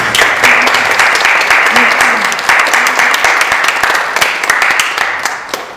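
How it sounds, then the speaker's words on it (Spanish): An audience applauds steadily at a lecture on the humanities and social sciences, dense loud clapping that continues throughout, with a voice faintly underneath. "Un aplauso."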